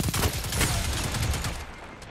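Rapid gunfire in Destiny 2 Crucible multiplayer from a weapon resembling Red Death, a dense run of shots blurring together, loud and close for about two seconds with no talk.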